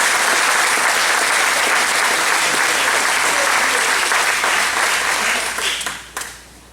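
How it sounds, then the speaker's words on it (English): Sustained loud applause from the audience at a community annual meeting in Fairfield Harbour, dense continuous clapping filling the room before tapering off near the end. "so let's give him a round of applause."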